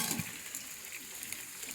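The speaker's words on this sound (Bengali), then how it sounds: "আলু ভাজা চলছে" Potatoes frying in a pan, with a soft, steady sizzle and faint stirring scrapes throughout, quiet and close.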